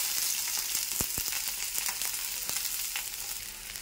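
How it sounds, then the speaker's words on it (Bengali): Chopped onion sizzling in hot oil tempered with dried red chilli and cumin, a steady bright crackling hiss with a few sharp pops and clicks of stirring, close up and alone. "এবার দিয়ে দেবো পেঁয়াজ কুচি।"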